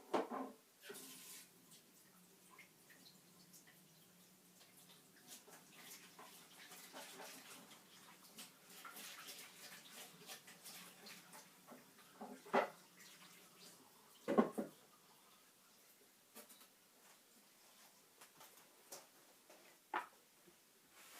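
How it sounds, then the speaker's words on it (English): Water from a kitchen tap runs over a printing plate in a sink, a faint, steady splashing trickle with occasional sharper clinks and knocks as the plate is handled. It is quiet and continues throughout without talk. "I'm literally taking this to my kitchen sink and I'm giving it a good clean, just running the tap over the top"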